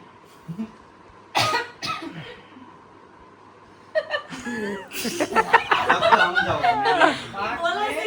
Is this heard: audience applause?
no